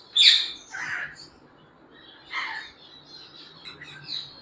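A pair of yellow-sided conures gives several sharp, squawking calls, a loud burst at the start followed by fainter chirps, close by with no talking.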